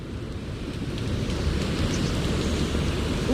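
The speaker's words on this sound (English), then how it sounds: "Oh, it's raining." Steady rain falls in the Zenless Zone Zero video game, a dense broadband wash that swells slightly and holds constant throughout with no voices over it.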